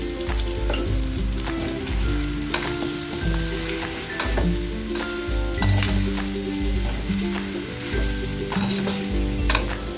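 Ground pork, chicken breast and chayote fry in a pan for a spicy dish, giving a steady, close sizzle broken by repeated clattering stirs throughout.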